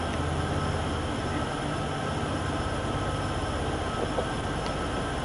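A heavy freight train on Sherman Hill in Train Sim World 2 strains to pull away, producing a steady, dense rumble with a low drone and no change in level across the stretch.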